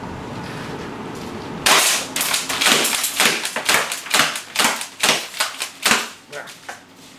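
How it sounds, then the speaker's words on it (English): A Marui SPAS 12 airsoft shotgun firing rapidly as it is pumped fast, a string of about a dozen sharp, close cracks mixed with clacking slide action, following a quiet start. "by pressing down this trigger and cocking really fast, I'm going to be doing rapid fire"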